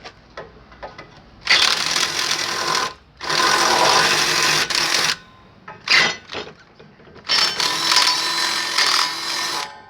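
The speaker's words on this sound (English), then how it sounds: "you can always pre-drill them to make it fit" A power drill whirs in several bursts of a few seconds each, pre-drilling holes while building a basketball hoop, separated by short pauses, loud and close with no voices.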